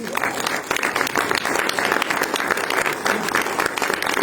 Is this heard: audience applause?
yes